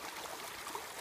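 Creek water in Creswick State Forest trickles and burbles steadily at low volume, a soft continuous flow with no voices.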